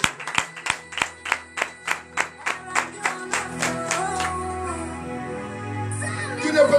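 Church congregation clapping in unison during a morning prayer service in Benin, a steady series of sharp, loud claps that speed up and blur into continuous applause with voices and music rising underneath.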